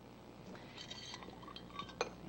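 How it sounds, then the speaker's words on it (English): Chicken broth being poured into a soup kettle, a soft liquid gurgle with a few faint clinks, at a low level. "And we'll just pour that in there."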